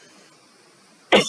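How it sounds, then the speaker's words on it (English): A single short, sharp cough bursts out near the end after a quiet, near-silent stretch. "I'm so sorry, I got a little bit cough."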